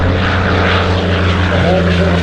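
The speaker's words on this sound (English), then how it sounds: "That is a conventional Allison powered aircraft." A P-40 warbird with an Allison engine flies past at the Temora airshow, its loud, steady propeller drone and engine roar filling the whole stretch.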